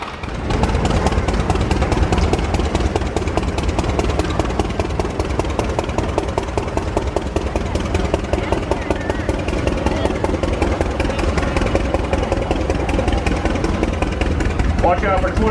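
A 1917 Cletrac crawler tractor engine runs steadily at a fairground show, giving a loud, rapid, even chugging beat with no pauses, close and constant throughout.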